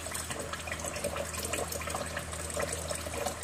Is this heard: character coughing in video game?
no